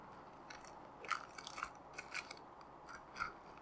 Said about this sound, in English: So I'm going to cut it in half so that way we can see what it looks like on the inside.